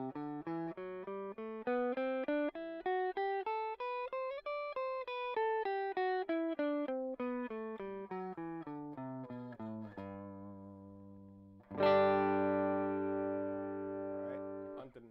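Steinberger headless electric guitar played through effects, running single-note scales up and down in an even rhythm, then sustained ringing chords toward the end, clean and alone with no talking.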